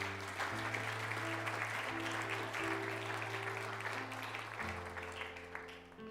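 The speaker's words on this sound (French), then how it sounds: "Est-ce que tu peux acclamer pour le roi des rois?" A church congregation claps continuously throughout, a dense wash of applause praising the King of Kings, with a sustained musical tone underneath.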